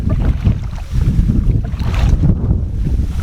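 Canoe paddled into the wind on the River Slea, with loud, gusty wind buffeting the microphone and low, rushing water noise, with no talking.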